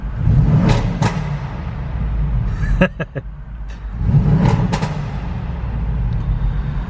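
An Audi RS6 Performance engine revs and then drops off, with crackling and popping bursts on the overrun, echoing loudly in a car park.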